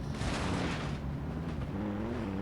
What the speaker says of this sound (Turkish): Ama motor sesi duyuyorum.